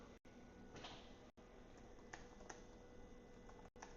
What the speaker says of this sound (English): I'm typing something out in the chat right now.